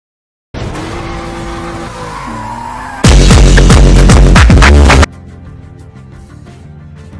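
In the 2001 Need for Speed game, a car drifts with a loud, sustained tire squeal over engine noise. A harsher, louder screeching burst lasts about two seconds, and then a quieter engine tone follows.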